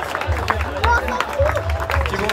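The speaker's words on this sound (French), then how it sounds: "je vais vous demander d'applaudir encore une nouvelle fois l'équipage du Maxi Edmond Rothschild" Audience applause and crowd murmur for the Maxi Edmond de Rothschild sailing crew arriving at the Transat Jacques Vabre finish, steady clapping with chatter mixed in.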